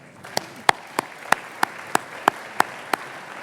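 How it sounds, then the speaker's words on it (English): Applause at a chamber of commerce annual dinner and awards event, heard as about nine sharp, distinct claps in an even rhythm, fairly close and crisp, rather than a dense crowd ovation. "Give yourself a round of applause."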